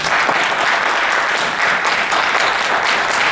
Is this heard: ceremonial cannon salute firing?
no